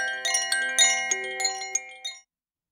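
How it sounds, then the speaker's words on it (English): A doorbell chime run through a high-pass filter sounds thin and bright, with a series of sharp bell strikes that ring and overlap for about two seconds, alone with no voices, before fading out. "If I reverse it and add a high pass filter"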